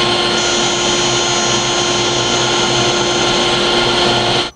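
A plunge router cuts a haunched mortise in the wooden door rail of a Greene and Greene style wall clock, giving a loud, steady, high-pitched whine that runs unbroken for over four seconds and then stops abruptly.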